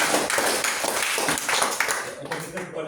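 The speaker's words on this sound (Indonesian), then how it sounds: "Mereka tepuk tangan." Audience clapping hands at a gathering in Indonesia, a dense, steady patter of many hands lasting about three seconds, fairly close and loud, tapering slightly at the end with voices mixed in.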